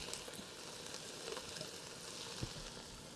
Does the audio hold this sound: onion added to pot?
yes